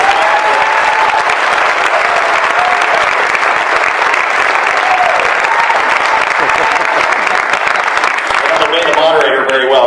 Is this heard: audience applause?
yes